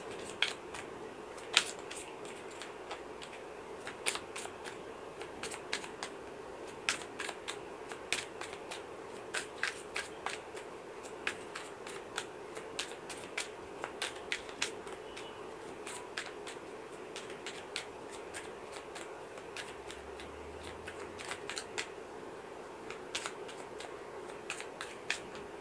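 Tarot cards laid out and handled one by one on a table, giving light, crisp snaps and soft slides that come in a steady irregular patter, close but quiet over faint room hiss.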